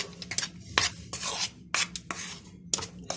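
A utensil mixing flour and baking powder for a tiger cake batter, heard as short, close, dry scraping strokes in quick irregular bursts separated by brief pauses.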